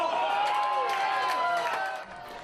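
A crowd of fans cheers Canada's first and second goals at a home-soil World Cup match, with steady, dense roaring and voices sustained throughout, dipping slightly near the end.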